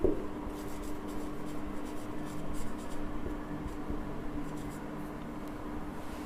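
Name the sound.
writing with a pen on paper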